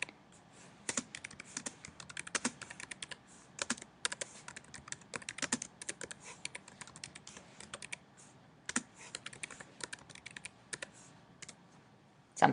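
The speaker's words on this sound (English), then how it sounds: "And then you can type something in." Fast typing on a computer keyboard during a webinar, with bursts of sharp key clicks and brief pauses between runs, fairly close and alone without talk.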